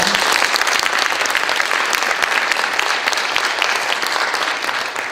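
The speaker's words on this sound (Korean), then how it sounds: "함께 영광의 박수 올려드리겠습니다" Congregation at Tacoma Central Presbyterian Church in Seattle applauding during a mission report service, a dense, steady round of clapping that fills the whole stretch at full strength and eases slightly at the very end.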